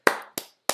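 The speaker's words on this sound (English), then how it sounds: "round of applause to you" Three sharp hand claps spaced about a third of a second apart, close and fairly loud, with short ringing tails and no talking, offered as a round of applause during a live Arsenal vs Man City watchalong.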